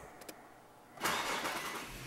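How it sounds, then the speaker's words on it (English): A car engine is started by push button after a fingerprint login, cranking and catching at about one second into a loud, steady idle that continues to the end, close by and without speech. "Now I can start the car."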